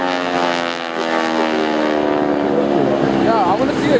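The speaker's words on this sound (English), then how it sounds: "you're buzzed by the high-speed pass of the T-6" A T-6 Texan propeller aircraft makes a loud high-speed pass at the 2012 Thunder Over the Boardwalk airshow, its engine and propeller droning in a strong, steady harmonic roar whose pitch sags and warbles as it passes.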